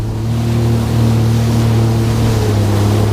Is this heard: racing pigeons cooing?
no